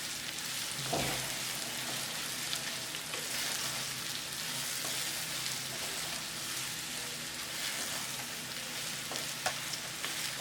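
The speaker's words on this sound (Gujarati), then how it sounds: "હવે આપણા તુરિયાને સારી રીતે આમાં મિક્સ કરી દઈશું।" Ridge gourd is stirred and fried in a tempering with curry leaves, a soft steady sizzle at moderate distance. Occasional stirring scrapes and a brief clatter near the start sit over the hiss.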